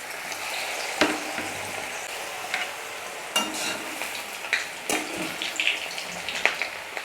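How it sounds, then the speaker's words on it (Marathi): Soya chunks deep-frying in hot oil over a medium gas flame, for a hotel-style crispy soya chilli, give a continuous bubbling sizzle with scattered sharper pops and splashes close by. "हे सोया चंक्स तळून घ्यायचे तेलामध्ये"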